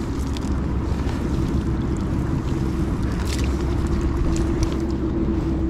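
Strong sea waves churn in a continuous, loud rumbling roar with wind buffeting the microphone, steady and close throughout with no voices.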